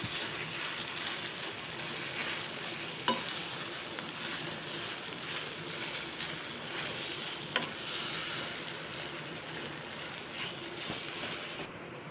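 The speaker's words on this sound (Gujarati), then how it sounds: "હવે આપણે બધું જ મિક્સ કરી લઈશું" Potato stuffing for bread pakora is mixed with salt in a pan, giving a soft, steady sizzle and scraping stir with two sharp taps of the spoon against the pan, no talking.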